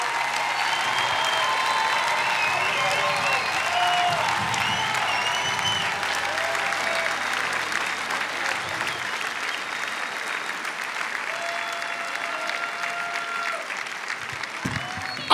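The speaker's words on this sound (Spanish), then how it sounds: "Why don't you give a big clap offering and show him that you love him?" Sustained audience applause at a church service following a bishop's sermon, a dense, steady clapping wash lasting throughout with faint voices and tones underneath.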